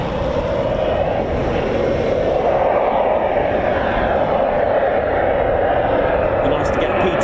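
A Eurofighter Typhoon FGR4 jet at RAF Coningsby gives a continuous, broad roar that holds steady and swells slightly, heard from a distance outdoors with no voices over it.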